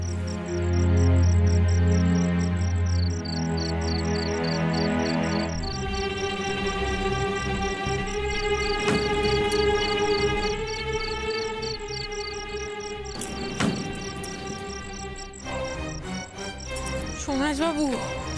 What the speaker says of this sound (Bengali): চারিদিকে তো ঝিঝি ছাড়া আর কিছুই নেই, কেউ নেই।